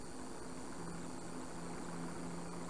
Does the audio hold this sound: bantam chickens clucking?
no